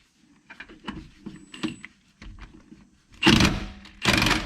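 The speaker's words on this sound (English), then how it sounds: "I'm gonna get my socket right there, right on the bottom." Socket wrench spinning off a lower shock absorber bolt on a 2015-2018 GM with magnetic front shocks; scattered light ratchet clicks and clanks, then two loud, close bursts of rapid spinning near the end.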